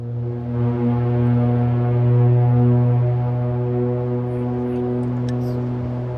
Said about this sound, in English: Time to sound the foghorn.